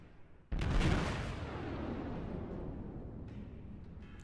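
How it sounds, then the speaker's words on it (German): The battleship Tirpitz firing a salvo in World of Warships, a single sudden, loud booming blast of heavy naval guns followed by a long rumbling decay. "So, und die Schüsse auf die Atago."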